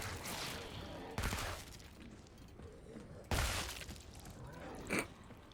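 Gunfire in a shooter video game: a few loud, sharp shots at separate moments over a steady background of game sound.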